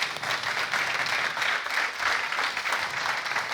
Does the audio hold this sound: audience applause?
yes